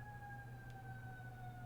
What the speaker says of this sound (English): There are sirens.